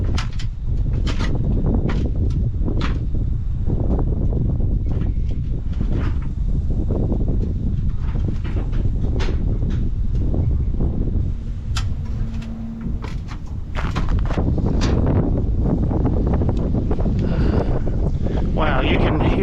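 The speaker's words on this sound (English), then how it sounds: "Wow, you can hear that wind picking up" Strong tropical storm wind with gusts near 50 mph roars steadily and loudly across the microphone, a dense continuous rush with buffeting bursts and occasional knocks and rattles from nearby objects.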